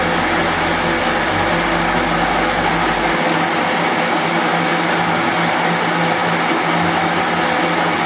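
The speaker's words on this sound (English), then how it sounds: "I'm now putting the slot in with one of a group of cutters I brought over from America about a year ago" A milling cutter slots a boiler part on a horizontal boring machine, giving a steady loud mechanical whir and grinding that runs throughout, with a low motor hum that drops out partway through.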